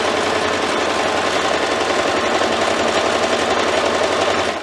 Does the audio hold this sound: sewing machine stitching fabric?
yes